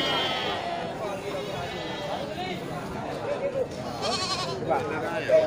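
Goats and rams bleat at a crowded livestock market where animals are gathered for sale before a Maulid celebration. Repeated bleats overlap with steady chatter from people nearby.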